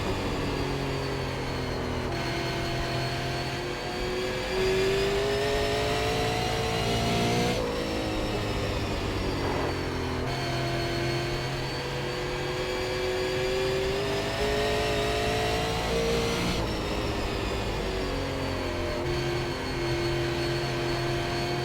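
A super late model race car engine droning steadily at Five Flags Speedway in iRacing, the loud buzzing note rising and falling in pitch as the car accelerates down straights and eases into corners, lap after lap, with no talk over it.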